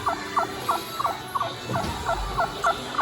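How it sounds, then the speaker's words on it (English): A turkey gobbles in a quick repeated series of short, warbling calls, about a dozen in three seconds, over faint background noise. "Turkey call, turkey call, turkey call."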